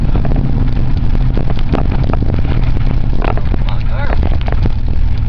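A 1995 Ford F-250 pickup climbs a muddy hill in Wyoming, its engine a loud, steady roar with rattling underneath from start to finish, and voices mixed in.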